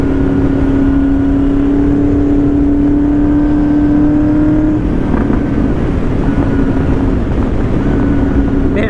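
A Honda VFR 800 motorcycle's exhaust under acceleration during a ride, loud and close: a rising whine climbs steadily, then drops into a rougher, fluctuating roar as the engine keeps pulling, with road and wind noise throughout.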